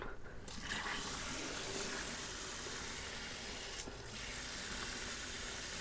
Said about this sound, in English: I actually need to go get my hose and fill these up before I put it back together.